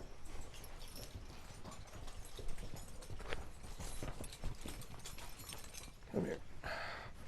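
Mules' hooves clip-clop on a mule farm as the animals walk up to be hitched, an uneven series of close hoof strikes with a few brief thumps and rustles.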